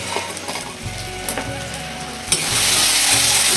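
Spices with turmeric and Kashmiri chilli powder fry loudly in a pan for a chicken dish, a close, sharp sizzle with stirring scrapes that swells into a dense hiss near the end, no talking.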